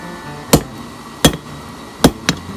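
Metal is hammered on an anvil while a paper towel holder is forged, four sharp ringing strikes at uneven intervals, close and loud, with quiet between blows.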